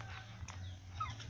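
A dog outdoors at a neighbor's house garden, giving brief yips or whimpering barks at moderate distance over a steady low background hum.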